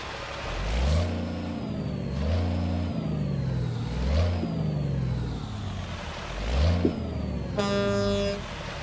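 A Peterbilt truck engine in American Truck Simulator revs through several rising and falling surges, fairly close and steady, with a short horn-like tone near the end and no talk.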